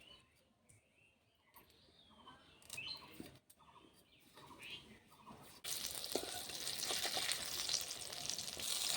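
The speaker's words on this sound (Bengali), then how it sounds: "ভাবলাম বেগুনটা ভেজে ফেলি" Eggplant frying in a pan bursts into a loud, steady sizzle about halfway through, after a quieter stretch of kitchen clatter and a voice talking.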